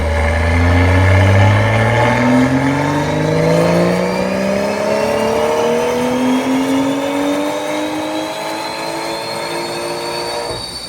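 A tuned BMW 540i G30 with a B58 engine on a Stage 2+ map at about 470 hp pulls hard through several gears, its engine note climbing steadily and loud with no talk.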